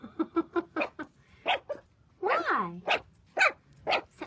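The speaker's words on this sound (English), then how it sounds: "You gonna bark at me?" Havanese dogs let out a string of short, close barks and a drawn-out whining yelp, with a person speaking to them between the outbursts.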